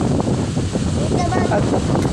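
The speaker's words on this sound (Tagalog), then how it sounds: "Pagkadaguag kay kusog ang hangin." Strong wind buffets the microphone at Lion Beach in General Santos, a loud continuous rushing roar with surf in the background while a voice talks over it.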